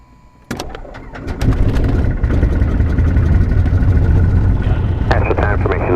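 A Mooney airplane's piston engine is cranked and catches, first a few sharp clicks, then a loud, rough roar that settles into a steady, close idle. Speech can be heard faintly over the engine.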